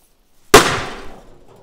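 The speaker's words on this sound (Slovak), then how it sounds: "Ideme si dať petardu PS2, 2-gramová petarda, kvalitne spracovaná a dáme si ju klasicky dovnútra a aj zavreme." A 2-gram PS2 firecracker bursting inside a closed stove: one sharp, loud bang after brief silence, then a metallic ringing decay fading over about a second.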